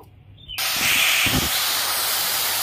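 Jaggery and a splash of water hit a hot wok and burst into a loud, sudden hiss after a brief quiet moment, then keep steaming steadily.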